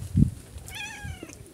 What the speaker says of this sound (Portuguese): A coisinha que serve dentro de uma casa é um gato.